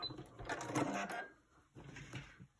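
A sewing machine runs quickly through quilt pieces, a steady close mechanical whirr and rattle for about a second before stopping, then a softer handling clatter follows.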